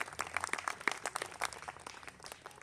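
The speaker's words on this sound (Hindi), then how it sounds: "इसके लिए बेहद जोरदार तालियां आप सभी लोगों को।" A crowd applauds at a political rally, a brief patter of many hands clapping steadily for a couple of seconds before tapering off.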